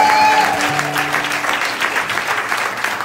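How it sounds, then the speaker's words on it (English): An audience at a live concert applauds the band in a sustained burst of clapping, loud and close, while the last sustained notes of the music fade underneath. "how about one more big round of applause to the band"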